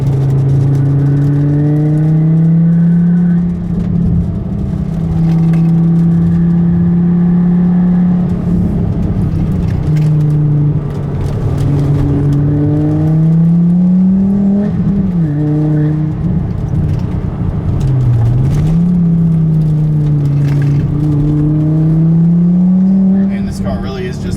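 A sleeper Volvo road car drones steadily and loudly from inside as it drives a winding road, its engine pitch rising and dipping with gear changes and throttle. Someone talks over it.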